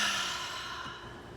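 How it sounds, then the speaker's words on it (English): A long, deep exhale pushed out through the mouth during a yoga stretch, a close, breathy rush of air that fades slowly over about a second and a half, heard alone without talk. "And then exhale it out of your mouth."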